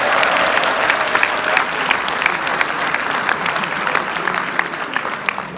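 A crowd at a live comedy show gives loud, sustained applause, with dense clapping from many hands that stays strong throughout and eases slightly near the end.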